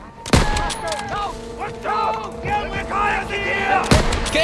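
Gunfire in the Call of Duty WWII game, with sharp loud shots near the start and end and distant battle noise, while voices shout and talk throughout.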